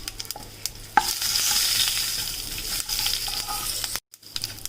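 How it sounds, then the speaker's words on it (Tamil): Mustard seeds, urad dal, asafoetida, cumin and fenugreek sauté in hot oil with a bright, continuous sizzle and repeated spoon scrapes, close by, broken by a short silence near the end. "கடுகு உளுத்தம்பருப்பு சேர்த்துட்டு பெருங்காயத்தூள், சீரகம், வெந்தயம் கொஞ்சம் கொஞ்சமாக அதையும் சேர்த்துட்டு நல்லா வதக்கி விட்டுருங்க."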